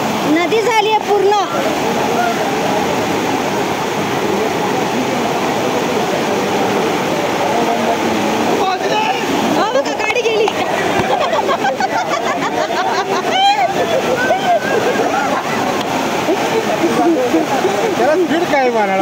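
Floodwater after a cloudburst roars and rushes steadily through a street in Lokmanya Nagar, Thane, loud and continuous, with vehicles passing through and voices talking over the torrent.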